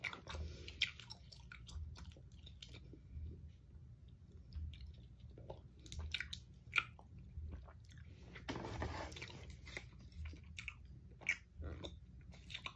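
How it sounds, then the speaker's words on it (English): Strawberry ultra strength Rolaids antacid tablets being chewed up close, with repeated soft crunches and bites in an irregular rhythm over a quiet background. "These Rolaids remind me of strawberry Hubba Bubba gum."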